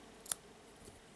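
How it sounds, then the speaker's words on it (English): Scissors snipping the loose end of yarn on a crocheted flower: one quiet, sharp snip, close by in a calm room. "And the end of the yarn can be cut off"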